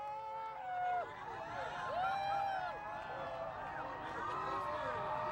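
A crowd of people gathered outside for the August 2017 solar eclipse, moments before totality, chattering and calling out at a distance as a murmuring babble with whistles and excited voices rising and falling.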